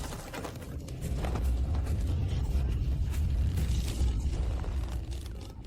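A torture device has its screws tightened, giving a dense, low mechanical grinding and creaking that swells, holds steady for several seconds and then eases off.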